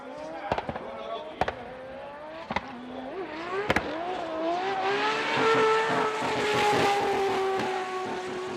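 A Toyota GR86 race car, number 999, laps Fuji International Speedway in qualifying, its engine rising in pitch through the gears with sharp shift cracks early on, then a sustained loud high drone.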